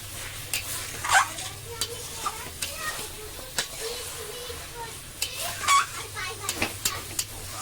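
Goat meat being stirred and turned with spices in a frying pan, a soft continuous sizzle broken by intermittent scraping and clatter of the utensil against the pan, with faint background voices.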